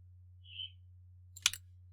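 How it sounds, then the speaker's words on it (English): A single short bird chirp, then a sharper burst of chirping a moment later, faint over a steady low electrical hum. "Sorry if you can hear my birds in the background,"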